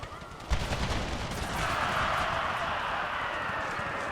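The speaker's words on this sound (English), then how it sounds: "And now let's have the stone wall fire as well." Musket volley from Civil War infantry firing behind a stone wall in a strategy game, a ragged crackle of many distant shots rolling into a sustained rattling fusillade with a faint battlefield hiss.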